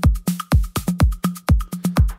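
Steady four-to-the-floor kick drum in a melodic house track, one punchy low thump on every beat with no extra kick between, looping alone and loud with a faint tonal layer above.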